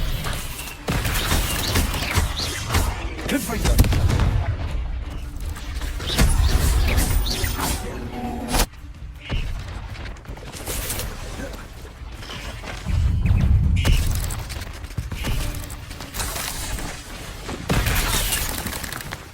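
Fire spell explosions in the Hogwarts Legacy video game crash and shatter in repeated loud bursts, with crackling debris and booming impacts over a busy game soundtrack.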